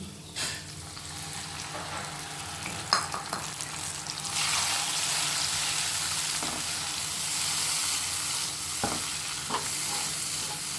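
Tomato tossed into fried ginger paste in a pan for a Bengali potato and pointed gourd dish, a few scrapes giving way to a loud, steady sizzle close by.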